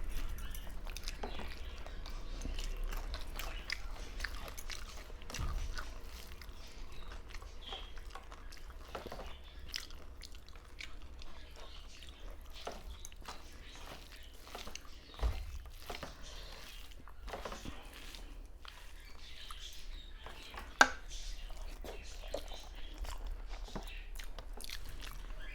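Slow, close-up eating of rice, dal, fried potato, egg and prawn, with soft crunchy bites and steady quiet chewing that continues throughout with no talk.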